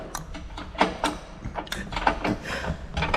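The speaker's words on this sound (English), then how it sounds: "That's the torque wrench." Torque wrench clicking while tightening suspension on a Harley-Davidson Road King Special motorcycle: a series of sharp, close mechanical clicks and ratcheting ticks at an irregular rhythm, with no talk.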